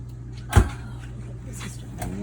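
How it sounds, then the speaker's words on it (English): A soft-close drawer in a motorhome coach shuts with a single muffled thump, followed by a quiet, low hum from the vehicle interior. "All your drawers are soft close."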